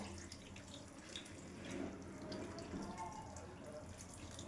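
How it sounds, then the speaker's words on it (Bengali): Hot water pours onto potatoes and cauliflower in a kitchen, a soft, steady splashing stream that thickens slightly midway, quiet and close. "গরম জলটা এবার আমি ফুলকপিতে, আলু আর ফুলকপিটাতে ঢেলে দেব।"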